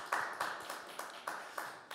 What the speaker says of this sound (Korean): 우리의 찬양과 기도를 바치는 하나님께 영광의 박수 올려드리겠습니다